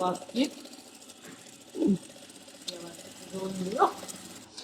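A sewing machine stitching wedding dress fabric in short runs, mechanical whirring in brief bursts close by, with someone talking and laughing over it.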